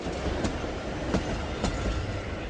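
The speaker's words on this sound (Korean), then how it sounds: "바로 앞 중앙선 철로로 하루에도 수십 차례 기차가 다니면서 진동과 소음이 일어납니다" A train rolls past on the Jungang Line railway near an old house in Andong, a dense continuous rumble and roar with faint rhythmic wheel clatter, close and loud with no speech.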